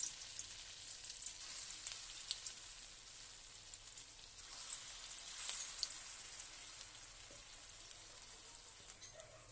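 Ground lentil paste fries in a hot wok, giving a soft, continuous crackling sizzle with scattered tiny pops, steady and fairly quiet throughout.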